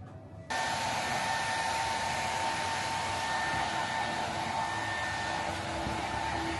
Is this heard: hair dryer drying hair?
yes